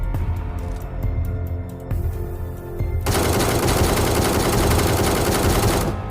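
S32 rifle in BGMI firing on full auto until the magazine empties, a loud rapid burst of gunfire that starts as separated shots, then becomes a dense continuous roar.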